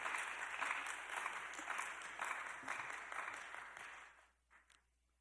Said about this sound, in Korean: 우리 선교사님 나오셔서 말씀 전할 때 우리 박수로 우리 환영하자